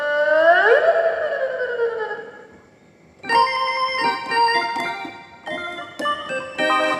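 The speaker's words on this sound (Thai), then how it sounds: "นี่เสียงซอ" Thai fiddle (saw) voice on an SV800 electronic keyboard, opening with sliding, swooping bowed tones, a brief near-silent gap, then a series of sustained melodic notes, fairly loud with no speech.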